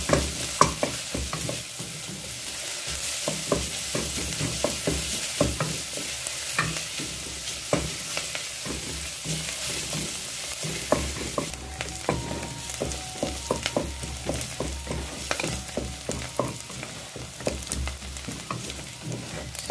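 Onions and garlic frying together in a pan for soft fried liver, giving a continuous loud sizzle with frequent scraping and stirring taps of a utensil throughout.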